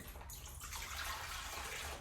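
Warm tap water pouring steadily into a mixer bowl, a continuous close hiss and splash that holds unbroken from start to finish.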